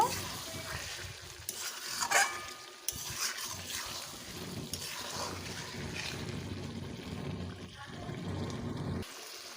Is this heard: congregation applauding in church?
no